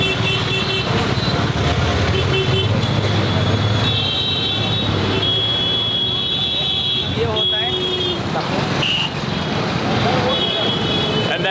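Busy road traffic in India with no traffic lights, a dense wash of engines and vehicles with horn and beep tones sounding repeatedly throughout, continuous and loud.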